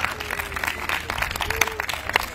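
An audience applauds for a jazz quartet at an outdoor concert at a campsite, dense clapping with scattered sharper claps, steady and moderately close, with a few voices calling out.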